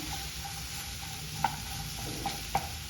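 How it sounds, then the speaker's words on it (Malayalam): Okra stir-fries in a pan with a low, steady sizzle, broken by a few sharp scrapes and taps as a spatula mixes it. "ഇത് വെണ്ടക്കായ ഇട്ടിട്ട് ഇപ്പം ഞാൻ നന്നായിട്ട് ഞാൻ മിക്സ് ചെയ്യുന്നുണ്ട്"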